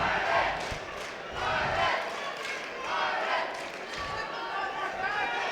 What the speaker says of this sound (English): The crowd are starting to pick up.